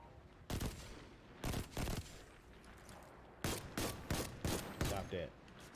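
Gunfire from a weapon in the video game Destiny 2: about nine sharp, loud shots, in a pair near the start and then a quick rapid string of bursts later, over a quiet background.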